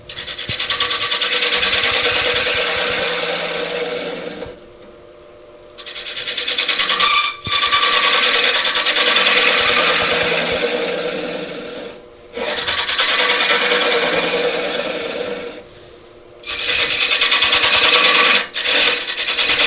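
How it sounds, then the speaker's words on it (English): A quarter-inch bowl gouge cuts into a spinning wooden bowl on the lathe, hollowing out a recess: a steady, loud, close rasping scrape in four long passes broken by short pauses, with no talking. "I'm going to go with a small bowl gouge to start with, so a little 1/4 inch, and I'm going to cut away from that line."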